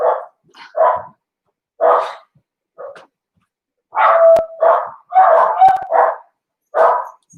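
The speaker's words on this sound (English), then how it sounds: "Sorry about the dogs." Several dogs bark loudly and close by in irregular bursts, some overlapping, with short pauses between volleys.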